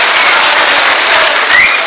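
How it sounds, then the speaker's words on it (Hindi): Loud, dense applause from the audience at a Hindi poetry gathering (kavi sammelan), a continuous close roar of clapping with no talk. "तो मैं चाहता हूं एक बार जोरदार तालियों से आप अपनी मौजूदगी दर्ज कराइए"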